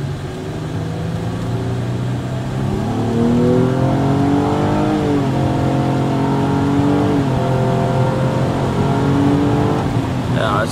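A car engine revs up through rising gears, each shift dropping the pitch before it climbs again, heard loud from inside the vehicle over road rumble.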